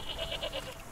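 Goats bleat in the Wytchwood video game on a mountain path, a quick run of several short, close calls packed into a second with no talk over them.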